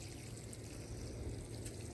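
Water pours and trickles steadily onto soil to soak freshly planted potatoes in a sunny garden bed, a soft continuous splashing at close range with no talk.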